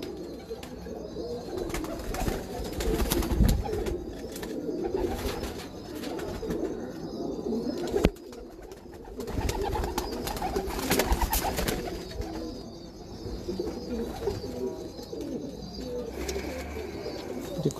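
An old breeder pigeon coos in low, repeated throaty notes close by, with rustling and faint background noise between the calls.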